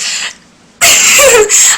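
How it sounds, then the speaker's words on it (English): A single loud, close sneeze bursts out after a brief quiet pause and trails off over about a second. "So I have to sneeze"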